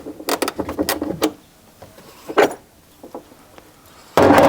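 A 10 mm wrench working on the battery terminal of a BMW G80 M3, a close series of quick metallic ratcheting clicks and taps in bursts, then a louder rustling clatter at the end.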